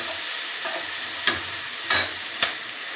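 A large chopped onion sizzles and sautés in hot oil with a steady, close frying hiss, broken by a few soft scrapes of a stirring spoon.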